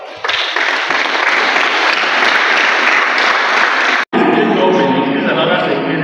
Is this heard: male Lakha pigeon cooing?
no